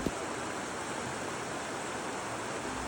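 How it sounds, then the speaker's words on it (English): A mountain river's current runs downstream while wind stirs the trees, producing an even, unbroken rush of water noise at a moderate, steady level. "the only sound is the current moving downstream and the wind in the trees"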